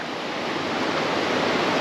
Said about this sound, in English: a little waterfall, water coming out of there, flowing down